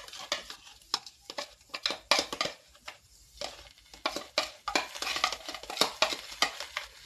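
Ground spice paste being stirred into vegetables frying in a pan, with repeated scraping and clinking of a spoon against the pan over a soft sizzle, close and fairly quiet.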